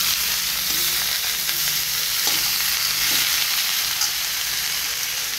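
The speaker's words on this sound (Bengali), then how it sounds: "আমি এখন ডাটা দিয়ে আলু দিয়ে মাছের ঝোল করছি" Fish curry with vegetable stalks and potatoes cooking in a pan, a loud, steady close sizzle and bubbling that runs evenly throughout with faint stirring knocks, no speech.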